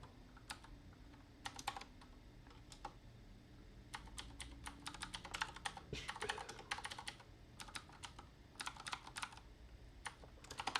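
Bursts of typing on a computer keyboard, quick clusters of light key clicks separated by short pauses, close and fairly quiet with no voices.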